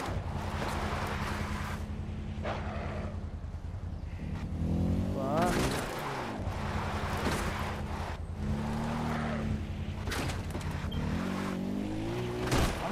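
Engine drone of a car driven in Far Cry 4, steady and loud throughout with rising and falling pitch as it revs and shifts, some wind rush over it, and someone talking at points.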